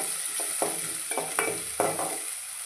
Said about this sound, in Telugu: ఒక పెద్ద సైజు ఉల్లిగడ్డ అయితే చిన్న చిన్న ముక్కలుగా కట్ చేసుకొని వేసుకోవాలి వేసి ఒకసారి అయితే కలుపుకుందాం